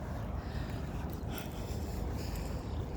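Low rumbling engine drone of a boat on open water, mixed with wind buffeting the microphone, steady and fairly close.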